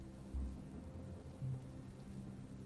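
Steady rain falls with low thunder rumbles rolling in twice, a soft continuous wash under deep, muffled booms with no voices.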